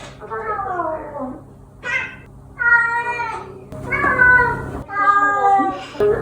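A Ragdoll cat meows repeatedly indoors, a series of five or six close, drawn-out calls with short pauses between them, rising and falling in pitch.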